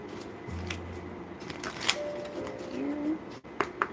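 A deck of tarot-style cards is riffled and shuffled in a few quick papery bursts, close and fairly quiet, with faint clicks between.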